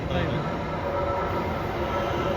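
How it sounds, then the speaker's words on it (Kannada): A train rumbles steadily through Banashankari metro station, a loud continuous roar of wheels and motors filling the space, with faint voices underneath. "ಯಾವುದೋ ಬನಶಂಕರಿ ಮೆಟ್ರೋ ಸ್ಟೇಷನಲ್ಲಿ ಇದ್ದೀವಿ"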